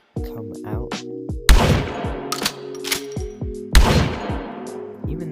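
Gunshots in a VR gun game, likely a shotgun: two loud, sharp blasts a couple of seconds apart, each followed by metallic clicks and clattering reload sounds with ringing tones.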